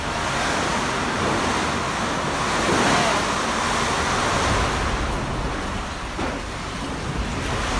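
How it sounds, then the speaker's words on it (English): Loud, continuous roar of typhoon wind and pouring water with rushing spray, a dense stormy wash that surges and eases slightly without any break. "the water is just pouring from there"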